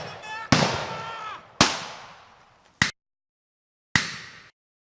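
Four sharp gunshot blasts from a game clip, each a loud crack followed by a decaying echo tail, spaced unevenly with silence between the later shots.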